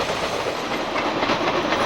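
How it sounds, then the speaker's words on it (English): A freight train hauling Triple Crown trailers rolls through a Pennsylvania mountain town near Gallitzin, a steady broad rumble and hiss of wheels with faint clickety-clack, continuous and fairly close. "we can see the parade of Triple Crown trailers winding through town"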